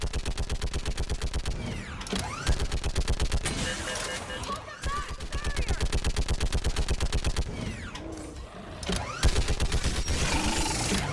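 Rapid, continuous mounted gun fire in Mass Effect 3 during the Thessia battle, a loud steady mechanical rattle sustained almost throughout with brief pauses, heavy and close.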